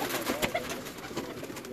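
Pigeons cooing, soft repeated coos at a moderate distance over a steady background hum, with no talk.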